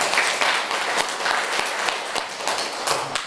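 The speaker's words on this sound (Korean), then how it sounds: "못 들어도 우리 박수 한번 칠까요?" A church congregation claps together in honour of the firefighters who put out a fire, a dense, steady applause filling the room for a few seconds.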